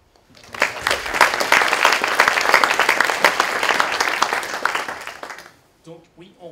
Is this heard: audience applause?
yes